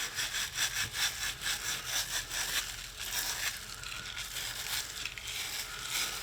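Hand sanding old varnish off a wooden BSA Cadet Major air rifle stock: rhythmic rasping back-and-forth strokes, close and steady, slowing into a softer continuous scrub.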